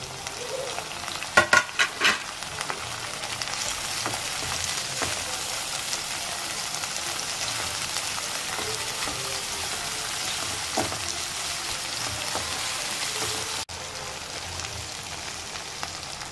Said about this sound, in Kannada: 1 ಟೊಮೆಟೊ, 1 ಹಸಿಮೆಣಸಿನ್ಕಾಯನ್ನು ಹಾಕ್ಕೊಂಡು ಎಣ್ಣೆಯಲ್ಲಿ ಫ್ರೈ ಮಾಡ್ಕೊಬೇಕು